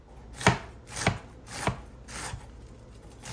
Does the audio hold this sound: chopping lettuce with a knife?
yes